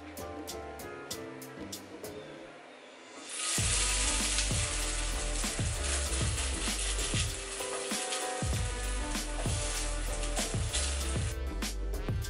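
Chickpea mix for lunch sizzles in a pan, and a bright, steady frying hiss starts a few seconds in. Rhythmic background music plays over the whole stretch.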